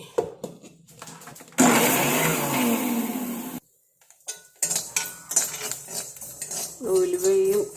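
A kitchen mixer grinder spins dried onion peels in a loud whirring burst of about two seconds, surrounded by quieter clattering and handling noises.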